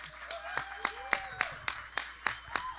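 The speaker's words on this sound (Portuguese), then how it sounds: "A salva de palmas para o Ivan e Belle Époque, por favor." Audience at a panel debate claps in a slow, even rhythm, about ten distinct faint claps spaced roughly a quarter second apart, with quiet voices in the room.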